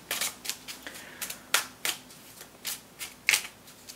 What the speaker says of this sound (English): I'm going to put them back in and continue shuffling